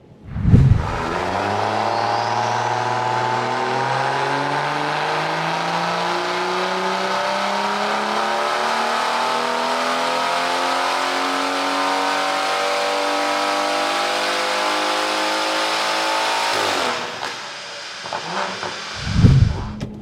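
A loud turbocharged BMW B58 engine running methanol injection pulls hard under load at 1.4 bar boost, pitch climbing steadily for about sixteen seconds, then cuts off with a whoosh of boost release.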